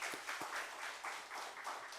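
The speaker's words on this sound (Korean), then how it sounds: "박수로 환영합니다." A small church congregation claps in welcome during a Sunday service, brief scattered applause that is faint and thin, with a few distinct handclaps early on.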